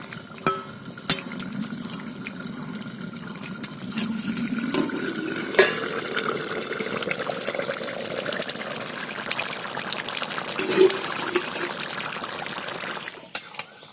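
Jackfruit curry simmers in a covered pot with a low continuous bubbling hiss, punctuated by scattered sharp clicks and clinks of the lid and utensils.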